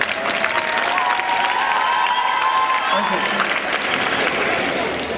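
A large audience at a polytechnic college annual day applauds and cheers, with crowd voices and shouts mixed into the dense, steady clapping.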